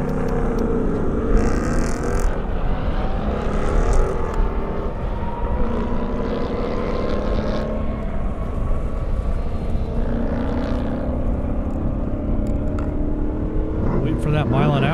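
Engines roar steadily as a Mercedes-AMG E63S and a Boss Mustang race down an airstrip, a dense continuous mechanical drone with shifting pitch, heard from a distance with an announcer's voice running over it.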